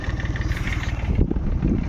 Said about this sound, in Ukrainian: Трактор Донфен. 244. Ось такий.